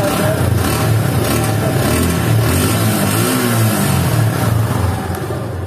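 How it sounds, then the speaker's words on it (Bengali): A used Suzuki Gixxer double-disc motorcycle with 1,957 km on it, its engine running loud and close. The steady mid-pitched rumble rises and falls with throttle blips, then eases off toward the end, with no talk over it. "এখন আমরা বাইকটা স্টার্ট দিয়ে আপনাদেরকে দেখাবো।"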